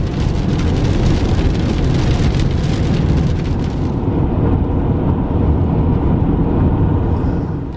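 Rain falling on a car, a dense, steady hiss and patter on the roof and body heard from inside, loud and unbroken, with the brightest crackle easing after a few seconds.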